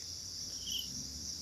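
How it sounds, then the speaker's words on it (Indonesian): Crickets chirp steadily at night in a forest garden under a full moon, a continuous high-pitched trill held close and fairly loud throughout, with a faint low hum beneath and no talking. "Ini sunyi. Di sini hanya suara jangkrik."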